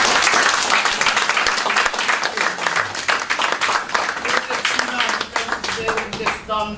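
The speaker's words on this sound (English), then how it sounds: "Give me a round of applause." Audience clapping after a Northern Praying Mantis Kung Fu demonstration, a burst of individual hand claps from a modest crowd lasting several seconds, with talking underneath as it tapers off.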